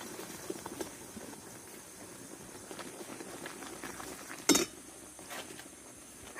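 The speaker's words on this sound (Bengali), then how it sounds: "এবার অল্প অল্প করে আমি সুজিগুলো দেবো আর একটু নাড়তে থাকবো।" Semolina being stirred little by little into boiling sugar syrup in a pan: a soft, steady bubbling hiss throughout, with faint scraping and one sharp metallic clink from a spoon against the pan.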